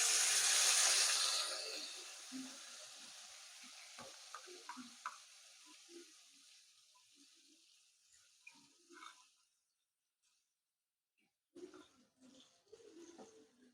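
Yogurt-marinated spices go into a pan of fried ginger and green chilli for doi potol. A loud sizzle bursts out at first, then fades to a soft crackle with light utensil taps and a short lull.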